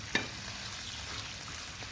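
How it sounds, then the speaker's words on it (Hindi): Onions frying golden brown in a kadhai of oil, a soft steady sizzle with a brief scrape of a spoon near the start, fairly quiet and alone. "और इसको फ्राई करेंगे, गोल्डन ब्राउन करेंगे इसको।"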